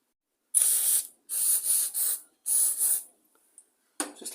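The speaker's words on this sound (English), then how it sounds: "So I'll put a bit more spray down there." Cleaning spray blasted into a part of a line trimmer that has sat unused for a long time, in three separate bursts, the second one double, and each burst is a sharp close hiss. A faint clatter follows at the end.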